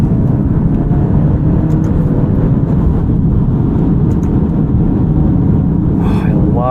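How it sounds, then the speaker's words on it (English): A 2023 Alfa Romeo Giulia Estrema with a 280-horsepower engine and an 8-speed gearbox is driven; its loud, steady low engine rumble fills the cabin without a break. "It is quick. 280 horsepower feels pretty healthy in this Giulia."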